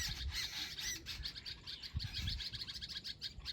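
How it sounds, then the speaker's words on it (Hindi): Many small birds chirping and tweeting beside a village farm field, a dense overlapping chorus of bright high calls and squawks, fairly close and continuous, with no voices present. "चिड़ियों की आवाज़।"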